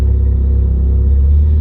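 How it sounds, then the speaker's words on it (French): A car with a single-clutch gearbox pulling away after the handbrake is released, a loud close-up engine rumble holding steady and building slightly as it accelerates. "Et là la voiture elle part un petit peu si j'accélère pas tout de suite."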